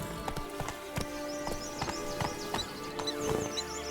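Roach, a horse in The Witcher 3, gallops with crisp, evenly spaced hoofbeats heard close and loud, under a bed of game music with bright tonal accents and a brief snort near the end.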